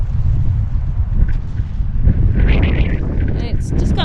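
Wind gusts across an open mountain ridge in the Angeles National Forest, a steady low rumble buffeting the microphone throughout, with brief rustles and faint voices toward the end.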